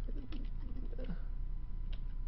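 Guinea fowl in a video game give a few short, chattering calls in the first second, faint and thin over a low steady background hum, then fall quiet.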